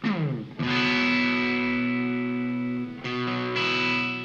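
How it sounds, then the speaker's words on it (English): Electric guitar played through the Line 6 Helix Native plugin with an extreme flanger setting, distorted sustained chords that sweep and whoosh, with fresh strums near the start and twice near the end, loud and close. "I've also gone for a rather extreme flanger setting"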